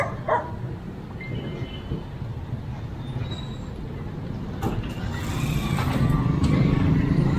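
A puppy barks in a few short yaps near the start, fairly faint against steady outdoor ambience and a low rumbling background that grows louder toward the end.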